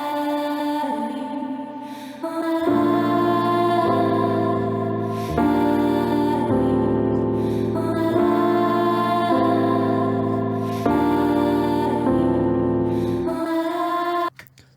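Finished MIDI chord progression played in key alongside a vocal sample, with sustained, layered chords changing every few seconds as a full, steady musical loop that cuts off sharply at the end, no speech over it.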